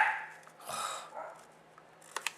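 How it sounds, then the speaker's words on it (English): A small dog yapping indoors in a home craft room, several faint, somewhat distant barks and pants with a couple of sharper yips near the end. "Oh gosh, there's my dog."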